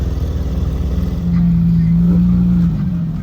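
A Porsche GT3 RS supercar pulls out, its engine rising to a loud, close, sustained tone in the middle before easing, with people talking over the engine noise.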